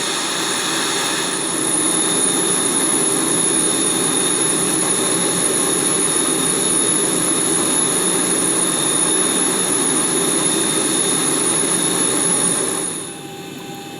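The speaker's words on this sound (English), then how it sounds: "now that our engines are started" Boeing 737-700 jet engines running steadily inside an X-Plane 11 flight simulator cockpit, a continuous loud whine and broadband roar with high-pitched tonal hum, holding level for about twelve seconds before dropping off.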